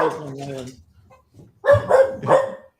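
A dog gives a few close barks and yips after a short whine, loud and spaced apart, with talk nearby.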